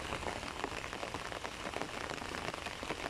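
Steady rain falling in a vegetable garden where curly and romaine lettuce grow, a dense even patter of drops on leaves and surfaces, close and continuous with no voices.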